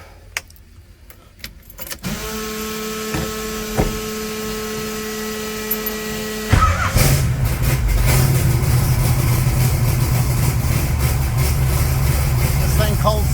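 A carbureted 1980 Trans Am engine cranks and catches on a cold start, then settles into a loud, steady rumbling idle that runs on close by without talk.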